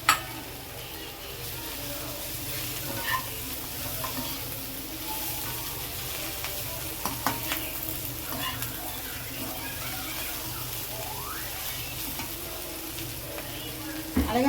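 Chicken, broccoli and capsicum fry in a pan with a steady, close sizzle that holds for the whole stretch, broken by occasional light stirring knocks and no talk.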